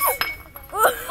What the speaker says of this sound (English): Breaking glass bowls.